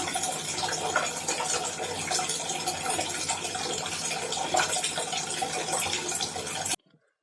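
Water runs steadily from a tap in a continuous splashing stream, drawn for cooking rice, close and fairly loud, then cuts off abruptly near the end.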